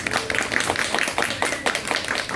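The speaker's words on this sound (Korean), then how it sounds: "박수 한번 부탁드리겠습니다." A small group at a coffee seminar claps for a couple of seconds, loose and uneven hand claps close by with no cheering.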